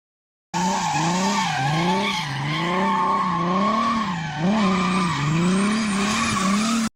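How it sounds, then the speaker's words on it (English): A Mercedes-Benz OM603 indirect-injection diesel engine starts abruptly and runs loudly up close, its revs rising and falling repeatedly with a gritty, droning tone. "diesel engine with indirect injection, manufactured by Mercedes-Benz between 1993 and 2001"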